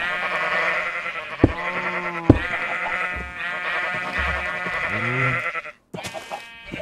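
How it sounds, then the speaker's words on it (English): A crumpled horn item in the Minecraft video game blares a wavering, sheep-like bleating tone, loud and sustained for several seconds with pitch bends and a few sharp clicks, then cuts off. "Okay, it's a horn that sounds like sheep's."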